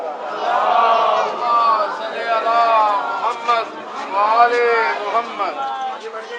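A crowd chants a salawat slogan in unison at a Shia pilgrimage gathering near Karbala, many voices rising and falling together in loud, sustained rhythmic waves.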